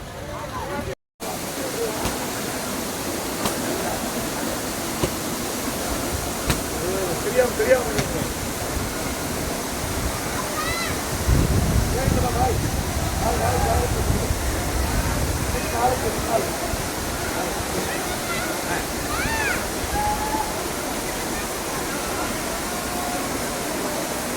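Main falls at Old Courtallam roar as a steady, broad wash of rushing water that swells in the middle, with someone talking and other people faintly heard over the noise.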